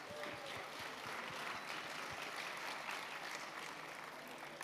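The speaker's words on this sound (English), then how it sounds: "Big round of applause for the prize." Audience applause at a hackathon presentation event, Disrupt Berlin 2017, steady dense clapping from a crowd that fills the whole stretch at moderate level without pause, heard at some distance.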